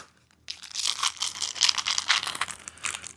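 Taped plastic packaging on a box of bolts being cut open, a close, soft crinkling and tearing that continues steadily for a few seconds with no talk.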